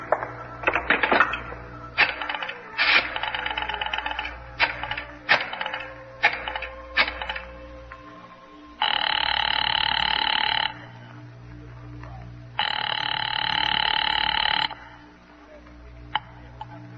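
A 1950s rotary phone is dialed with a run of clicking turns, then a loud telephone bell rings twice in long bursts with a pause between.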